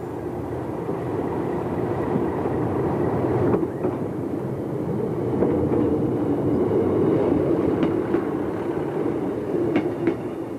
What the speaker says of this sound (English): A train of granite from the quarry is seen passing through Exeter St Davids.